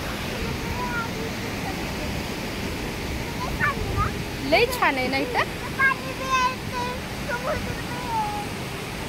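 A large river rushes far below a roadside bridge, a steady broad wash of flowing water running throughout while people chat over it.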